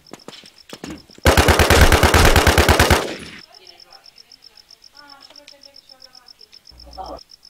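A loud, rapid burst of automatic gunfire from the zombie shooter game DeadZ rattles for about two seconds and then cuts off, leaving a faint, steady insect-like chirping and quiet background game sounds.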